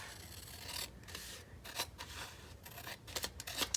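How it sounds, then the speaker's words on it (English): Scissors snip through glossy magazine paper for a collage, a quiet run of short crisp cuts and rasping slides at close range, with no talking. "So we're going to cut his ears in half."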